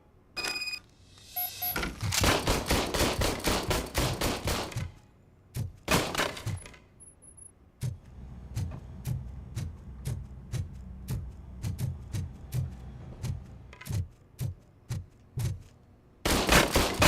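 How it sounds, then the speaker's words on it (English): Single gunshots from an old service pistol in the game RoboCop: Rogue City, a few close shots then a long even series of sharp cracks spaced about every second, ending in a loud burst. "I was issued this old gun and serviced it according to the manual. I will try it out."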